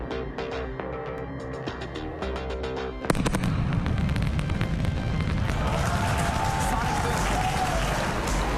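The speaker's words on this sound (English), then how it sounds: "That sonic boom is great for us. That thunderclap broke the sound barrier." Music gives way to a sudden, loud sonic boom from a returning Falcon 9 rocket booster that cracks like thunder, followed by sustained rumbling and crowd noise.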